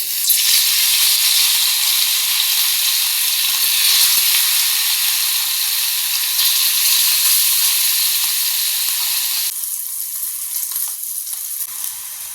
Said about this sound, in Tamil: எண்ணெய் ஊற்றிக்கும் கருவாடை வறுத்துக்கும்